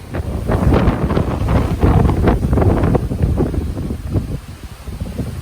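Heavy wind buffeting a microphone outdoors in Cocoa, Florida, with deep rumbling gusts that swell and ease continuously, loud and close, no speech.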